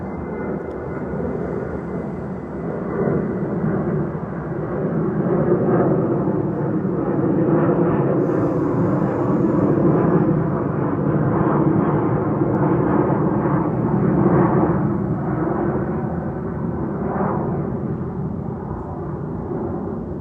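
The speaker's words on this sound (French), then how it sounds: "un avion qui décolle. Je suppose que vous l'entendez" An airplane taking off, a loud continuous roar of jet or propeller engine noise that swells and holds steady throughout, close by and heard alone without talk.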